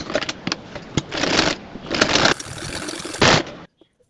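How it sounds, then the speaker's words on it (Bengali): A sewing machine runs in short, stop-start bursts of rapid whirring and clattering while a salwar seam is stitched, close up and fairly quiet, ending in silence. "এই যে এভাবে মাঝখান থেকে এভাবে জয়েন্ট দিয়ে সেলাই করে নিব"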